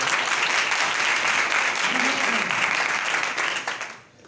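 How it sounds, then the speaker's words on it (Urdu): A church congregation applauds loudly, with a dense, sustained burst of clapping from a large crowd that fades out at the end, a voice briefly heard within it. "خدا کے لیے زوردار تالیاں بجائیے گا."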